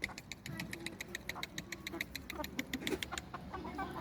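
Several chickens cluck and murmur nearby, with a rapid series of bright chirps from chicks or small birds over a quiet outdoor background; the flock includes hens and roosters.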